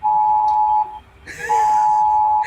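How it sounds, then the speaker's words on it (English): A phone emergency warning alert sounds loud and close, a harsh sustained electronic tone that breaks off for a moment amid a brief noisy rustle, then resumes as a second long blast. "This must be bad because I never got an emergency warning like that."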